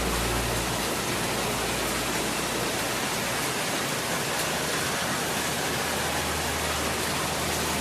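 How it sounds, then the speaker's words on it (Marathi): Rain falls steadily at a resort in Khanvel, Silvassa, a dense, even hiss close by that fills the whole stretch without a break, with no voices. "बघा, छान असा पाऊस पडत आहे."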